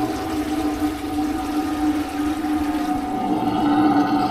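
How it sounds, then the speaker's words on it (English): Water runs hard from a faucet into a newly installed sink and drains with a steady rushing flow and a tonal, gurgling hum, growing slightly louder toward the end. "the moment of truth, I'm going to let the water run hard"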